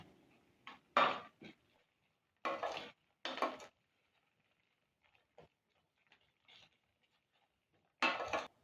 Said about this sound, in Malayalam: ഇനി എല്ലാം നല്ലോണം ഒന്ന് മിക്സാക്കി എടുക്കാം